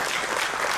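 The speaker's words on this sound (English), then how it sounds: "Can you give a round of applause for Marlon?" A short burst of applause from an audience at a network marketing business event, dense and steady with no talking over it.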